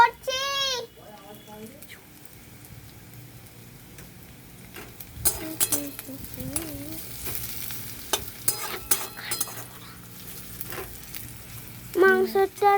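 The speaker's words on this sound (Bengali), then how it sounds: "এবারে কিন্তু ভালো করে এটা বাদামি করে ভেজে নিতে হবে" Meat browning for a tarka fries in a pan with a steady sizzle, broken by scraping stirs and clinks that grow busier midway. A voice speaks briefly at the start and again near the end.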